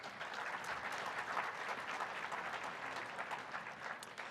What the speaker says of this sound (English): One more applause for Bill Karsten.